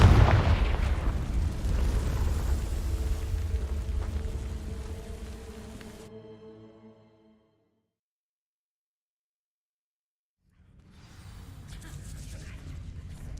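Confringo fire spell bursting into dry vines in Hogwarts Legacy, a loud rumbling blast with crackling tonal ringing that decays, then near-silence before low ambient sound returns.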